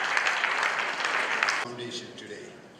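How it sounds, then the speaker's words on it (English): Applause from an audience fills the first part, then fades as a voice begins speaking over the tail. "And I would like you to give a warm round of applause to Dr. Mukhtar Khan"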